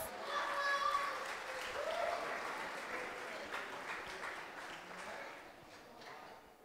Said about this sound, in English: Give it a big applause.